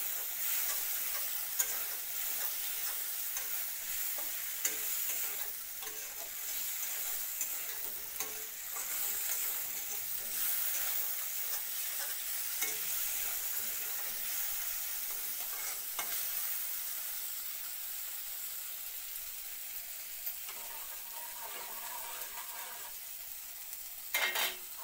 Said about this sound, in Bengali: এবার চানার ডালটা ফোড়ন দিয়ে দিলাম। একটু ভালো করে নাড়াচাড়া করে দিতে লাগবো।